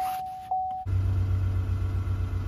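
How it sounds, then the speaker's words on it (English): A brief high beep, then a car engine cranks and catches, settling into a steady low rumbling idle close by. "I might have to actually start my car."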